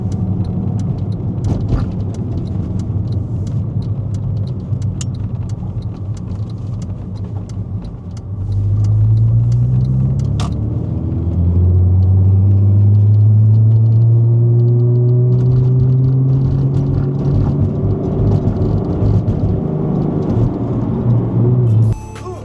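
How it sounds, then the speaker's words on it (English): A manual Porsche car drives on the highway, its engine droning low, then rising in pitch through acceleration with a gear change partway through, loud and close from inside the cabin. "first time taking the car on the highway"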